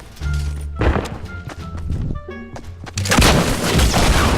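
A video game rocket launcher fires and explodes in a burst of booming blasts and gunfire-like bangs, loud and close, with a brief pause before a second heavy explosion that leaves a sustained noisy roar.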